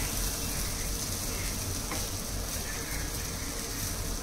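A masala omelette fries in a pan with a loud, steady hiss of sizzling oil that continues unbroken, and a faint scrape of a spatula cuts in briefly partway through.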